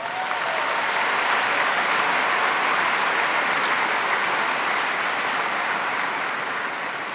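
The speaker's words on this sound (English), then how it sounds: "That deserves a round of applause." A large crowd applauds at a high school graduation ceremony, with dense, even clapping that holds steady and loud for the whole stretch and no voices rising above it.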